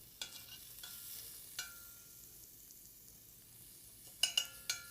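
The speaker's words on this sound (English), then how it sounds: "Give that a quick saute" Minced shallots and garlic sautéing in a warm pan, a faint soft sizzle with a few sharp utensil clinks against the pan, quiet and close.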